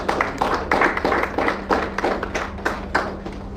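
Assembly audience clapping for the next speaker at a professional gathering, a steady, fairly close round of hand claps in uneven bursts over a constant low hum.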